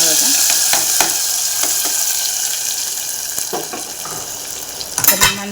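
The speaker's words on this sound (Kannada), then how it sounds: "ಈ ಸೊಪ್ಪು ಬೇಳೆ ಮಸ್ತ್ ಇಟ್ಕೊಂಡಿದ್ವಲ್ಲ, ಅದಕ್ಕೆ ಒಗ್ಗರಣೆ ಹಾಕ್ತೀವಿ." Hot tempering poured over a pot of greens and lentil dal gives a broad, loud hiss and crackle that slowly eases, with scattered clicks and a sharp burst of spattering near the end.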